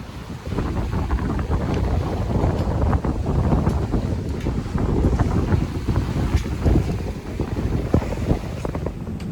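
Sailboat ripping along fast under strong wind on a long passage up the US East Coast, with loud continuous wind buffeting the microphone and rushing, splashing water against the hull, close and without speech.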